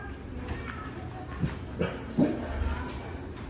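A dog gives a few short, muffled barks and yips at a moderate distance over low background noise.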